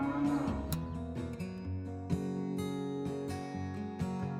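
Cattle low in a cartoon sound effect, with a long deep moo at the start followed by overlapping lowing calls from a herd, loud and close with no talk.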